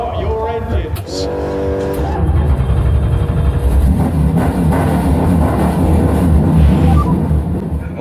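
Race car engines fire up and rev in a EuroNASCAR racing game at Brands Hatch, a loud, sustained roar of multiple engines building together after a short spoken command at the start.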